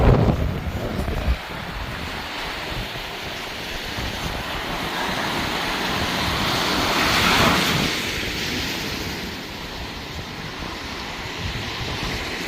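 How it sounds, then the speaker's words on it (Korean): The Wangpicheon river flows downstream in a steady, broad rushing wash, heavily buffeted by wind noise on the microphone, with a slight swell midway. "물은 잘 내려갑니다 지금 보시다시피 잘 내려가고 있습니다"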